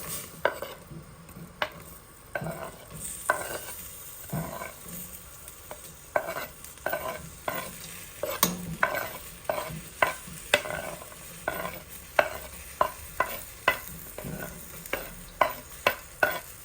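Chopped onions and garlic sauté in melted butter while a spoon stirs them, giving repeated scraping clacks against the pan over a low, continuous sizzle, close and fairly loud.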